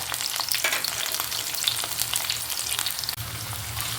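Shallots, ginger and green chillies fry in oil with a loud, continuous close-up sizzle, broken by a few soft stirring clicks.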